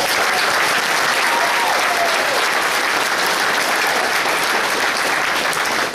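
An audience gives sustained, dense applause for the Keating family at an evening talk, a loud continuous wash of clapping from a crowd lasting several seconds.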